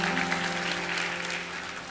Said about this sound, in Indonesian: kasih tepuk tangan untuk Pastor Puji.